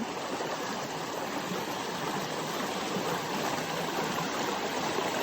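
A waterfall in Laur, Nueva Ecija rushes in a dense, unbroken roar of falling water, loud and close, steady from start to finish with no voices.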